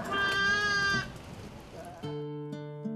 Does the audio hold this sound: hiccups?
no